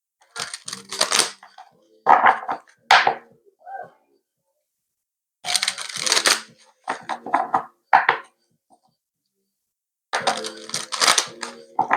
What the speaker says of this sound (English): whilst I'm shuffling the other deck